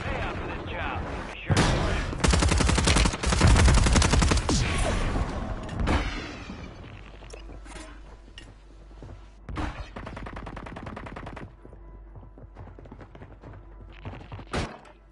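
Rapid gunfire bursts in Call of Duty Warzone, loud fusillades early that give way to scattered shots and thuds, with a voice talking over parts of it.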